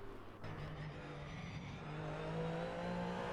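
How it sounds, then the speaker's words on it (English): A Porsche race car engine in Assetto Corsa endurance racing at Sebring drones steadily and revs up gradually as it accelerates, a continuous mid-level motor sound with no talking. "We had a lovely engine sound of the Porsche."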